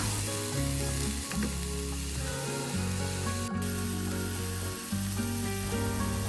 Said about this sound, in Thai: เราจะผัดเขาคลุกเขาให้เข้ากันนะคะ จนเกือบสุกแล้วเดี๋ยวเราจะไปปรุงรสชาติกันค่ะ